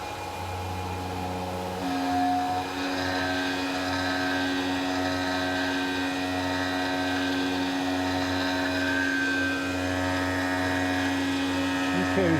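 Tormach PCNC 1100 CNC mill cutting a part, with holes for 4-40 screws: a steady, droning machine whine with tonal hum, running continuously at even loudness throughout.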